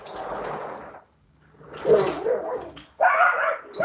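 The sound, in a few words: dog barking while chasing squirrels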